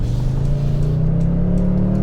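A 2022 Toyota Tundra with a twin-turbo V6 accelerates on pavement, a loud, steady engine drone rising gradually in pitch as it pulls, with no talk.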